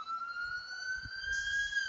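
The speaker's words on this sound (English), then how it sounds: "And we got an ambulance going through and a fire truck coming through." Emergency sirens in Los Angeles, from an ambulance and a fire truck passing through, wail as steady rising tones at a moderate distance, a second siren layer joining partway, over low rumbling traffic.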